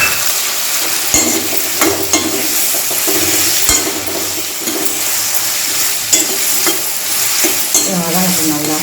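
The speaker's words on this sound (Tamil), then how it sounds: "வதங்கட்டும் நல்லா." Fish sautéing in a pan for tomato soup gives a steady, close sizzle with scrapes and clinks of stirring throughout, no voices.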